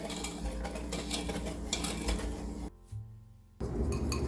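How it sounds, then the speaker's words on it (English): A whisk clinks and scrapes rapidly against a pan as butter and sugar are stirred over medium heat for pineapple curd, a busy metallic rattle close by, with a short pause before resuming. "And whisk that together over a medium heat until the sugar's dissolved."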